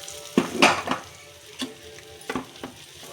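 Roasted peanuts get stirred into wheat rava semiya upma in a pan, giving several scraping, clattering stirs over a faint low sizzle.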